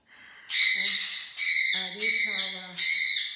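Four piercing, harsh cockatiel shrieks in quick succession, loud and close, with short pauses between them.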